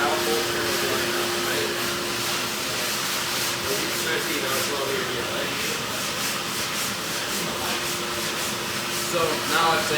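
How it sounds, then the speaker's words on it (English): Steady abrasive rubbing of sanding on a car body panel during an auto restoration class, a continuous close whooshing rasp with a faint hum underneath and no clear talk. "So now I've sanded this"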